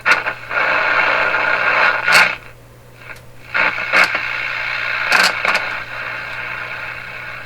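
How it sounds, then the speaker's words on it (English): Sylvania clock radio playing through a rattly, buzzy speaker, a steady broadband hiss-like sound with a low hum, dropping quieter midway, plus a few sharp crackles. "A rattly speaker."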